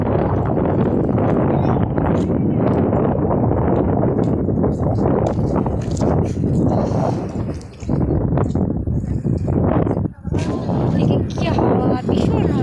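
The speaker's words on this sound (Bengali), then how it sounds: "কি হাওয়া, ভীষণ হাওয়া" Strong wind buffets an outdoor spot beside a water body, roaring steadily and broadband for the whole stretch with gusty surges and a brief dip near the end, loud and close as if hitting the microphone.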